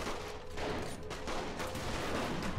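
Dense, continuous gunfire from Saints Row The Third, a steady wash of rapid shots and combat noise with no talking over it.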